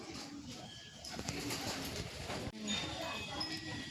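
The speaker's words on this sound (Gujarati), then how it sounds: "કબૂતર બધા ટેરેસ પર આવે" Pigeons gather on a village house terrace, cooing softly and intermittently at moderate distance, with a person talking over the birds throughout.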